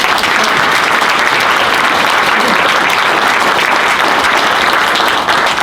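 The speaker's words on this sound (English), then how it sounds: "Thank you for the applause" Loud, sustained applause from a large audience at a hall of fame ceremony, thick and continuous clapping without a break.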